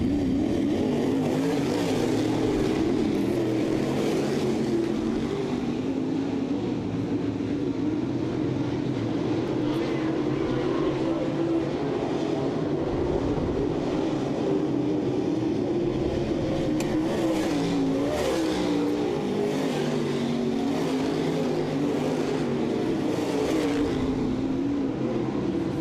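Dirt track race cars roar around a speedway in a heat race at Southern Ontario Motor Speedway, a loud, continuous engine drone with rising and falling revs as the pack passes, steady throughout.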